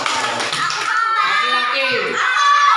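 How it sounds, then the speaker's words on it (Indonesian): Children clap their hands together in a lively burst, mixed with children's voices talking over the clapping. "Tepuk tangan buat Wise"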